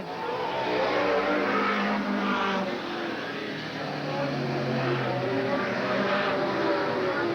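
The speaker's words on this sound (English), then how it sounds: "Coming around for the white flag. One more lap to go is Robert Sprague." Race cars roar around Eugene Speedway on the final lap in 1987, a continuous loud engine drone with passing swells, under a commentator's voice.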